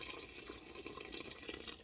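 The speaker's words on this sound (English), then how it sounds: "We're going to add a little bit of water to it" Water pours into a cooking pot of chicken and dumplings as a steady, hissy splashing stream lasting a couple of seconds, alone and fairly quiet.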